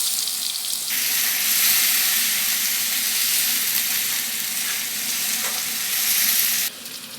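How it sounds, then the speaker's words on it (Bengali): Onion, ginger and garlic paste hits hot oil and fries with a loud, steady hiss that swells after the first second and eases near the end, close and continuous with no voices. "এবার আমাদের তেল গরম হয়ে গেছে, এবার পেঁয়াজ বাটার যে পেস্টটা ছিল সেটা আমি দিয়ে দেবো, পেঁয়াজ, আদা, রসুনের"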